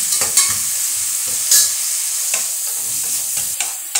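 Steady sizzle of onions frying in a pan with occasional sharp clinks and stirring scrapes, close by, no talking.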